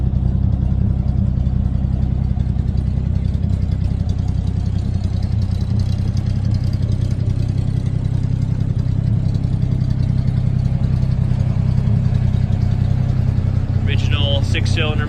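The original six-cylinder engine of a 1949 GMC truck idling: a steady, loud low rumble with an even throb throughout, close by, with a brief higher sound near the end.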